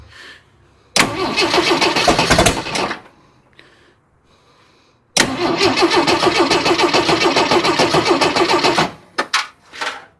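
A used Jeep 4.2 engine cranks in two long bursts, the starter grinding loudly for a couple of seconds, then again for about four seconds with brief sputtering catches, followed by a few short clicks.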